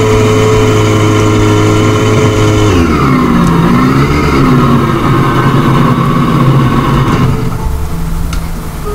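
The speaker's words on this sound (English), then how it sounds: "So now, I can actually drive backwards." A car driving in the Roblox game Lumber Tycoon, heard as a loud, continuous engine drone that rises and dips in pitch as it reverses and shifts, with no talking.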